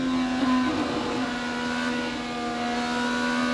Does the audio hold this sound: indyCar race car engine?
yes